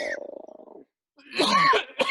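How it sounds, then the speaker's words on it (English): A low, rasping throaty sound fades out, then after a pause comes a loud, harsh cough followed by a quick short hack. "now you got the corona cough going on"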